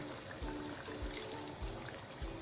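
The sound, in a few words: a little water poured into dahi chicken in a pan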